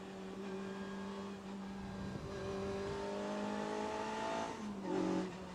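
A Suzuki S1 Sport 190 race car engine revs hard and steadily, its high droning pitch rising and falling with a sharp surge near the end, loud and close.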